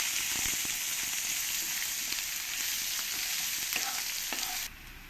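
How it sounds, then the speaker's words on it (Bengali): Steady, loud sizzling of onions frying with spices in a pan, with occasional stirring scrapes, close up; the sizzle drops off near the end. "পেঁয়াজগুলো ভালো করে আমি মশলার সঙ্গে ভেজে নেবো"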